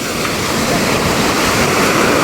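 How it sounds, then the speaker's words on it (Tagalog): River water rushes in a steady, loud, broadband roar close to the microphone. The flow is constant, without breaks, and there is no clear speech over it. "Dito tayo sa ilog."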